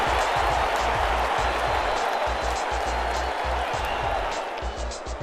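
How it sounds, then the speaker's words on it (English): A dense, steady roar of crowd applause and cheering fills a football game stadium as Orlando plays at Tallahassee on fourth down, with the noise continuous and loud before easing slightly near the end. "All applause for the Golden Paws."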